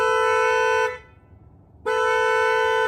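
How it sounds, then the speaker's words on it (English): A 2024 Hyundai IONIQ 6 sounds its horn twice, two loud, steady sustained honks close by separated by about a second of quiet, with no talking. "Lock, unlock, hold to start the vehicle up, and a horn."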